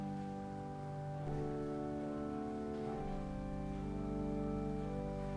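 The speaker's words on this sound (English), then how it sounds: "if I was playing something during Holy Hush, I would play the number 11" Pipe organ on a quiet stop combination, used for a hushed moment in church, plays soft sustained chords that shift slowly, smooth and gentle with no voices.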